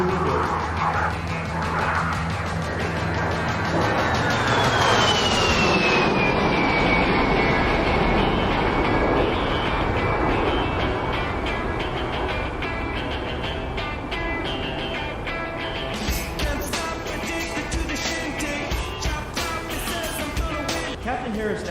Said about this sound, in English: From the right, here comes Captain Harris in the A-10 Thunderbolt II.